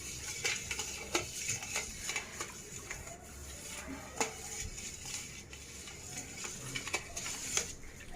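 A cleaning mixture with lemon salt being stirred in a vessel: steady, faint scraping and light clinking taps repeating irregularly, close by, with no talk.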